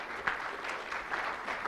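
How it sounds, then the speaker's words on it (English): Conference audience at a radio industry summit in Orlando applauding, a steady wash of many hands clapping, moderately loud and close, lasting throughout without speech. "Let's give Brad a round of applause."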